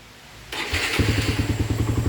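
Stock motorcycle engine: after a quiet start a sudden blip of throttle brings in a loud, close, pulsing engine note that settles into a rapid, uneven chugging rhythm.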